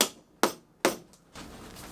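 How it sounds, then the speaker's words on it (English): Three sharp hammer strikes as seat cover clips are driven into place on a Lexus GX470 seat, evenly spaced and loud, each ringing briefly before a softer rustle of fabric handling follows. "And then we'll hammer those in to place."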